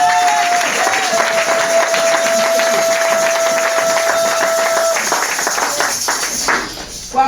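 A church congregation bursts into sustained, dense applause that fills the space from start to finish, with clapping close and loud and a steady held tone running beneath the first few seconds.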